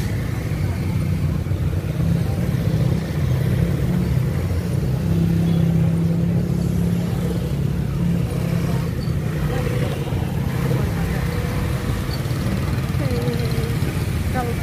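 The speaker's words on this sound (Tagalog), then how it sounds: "Super traffic." Heavy night traffic crawling through Calbayog City, a steady wash of car and motorcycle engines with a continuous low rumble that holds level throughout, and voices talking faintly underneath.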